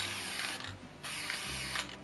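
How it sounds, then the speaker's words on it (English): Short hissing bursts of a spray paint can sprayed from 8 to 12 inches away, two or three blasts in quick succession with brief gaps, close and fairly quiet. "So you spray from 8 to 12 inches away."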